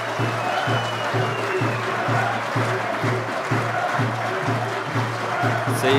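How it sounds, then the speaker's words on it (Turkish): Karaman FK football supporters in packed stands before a match, a dense roaring crowd with steady rhythmic drum-like thumps pulsing about twice a second throughout. "Karaman Futbol Kulübü'nün seyircileri çağırıyor maç önü."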